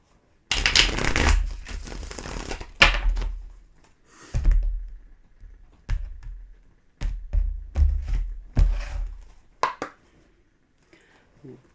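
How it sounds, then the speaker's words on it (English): Tarot cards are shuffled in several quick riffling bursts separated by pauses, close up and fairly loud, with a person talking in between. "One more shuffle here"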